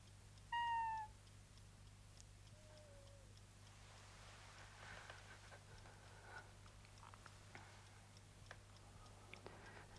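A hungry house cat gives one clear meow near the start and a fainter second one shortly after. A quiet room follows with a steady low hum and soft ticking, and no one talks.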